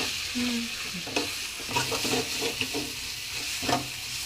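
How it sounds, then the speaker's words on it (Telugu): Grated raw mango curry being stirred in a pan, a soft sizzle under repeated scraping strokes of a spoon against the pan bottom at an uneven rhythm; no voices. "ఇట్లా అడుగు అంటకుండా కలుపుతూ ఉండాలి"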